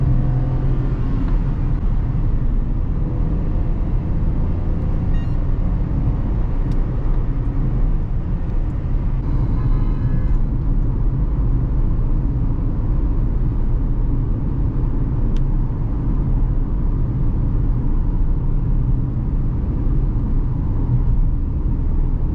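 A 2025 Renault Kiger facelift driving on the road, with a steady, close, continuous low engine and road rumble throughout and no talking.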